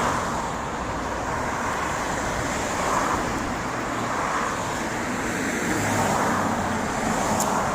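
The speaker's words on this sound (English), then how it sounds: "Just waiting for the traffic to pass" Road traffic streams past outside an old country church in Ireland, a steady mid-distance roar of cars that swells gently as vehicles go by, with no voices.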